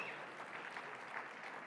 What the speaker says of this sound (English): Give those people both a huge round of applause.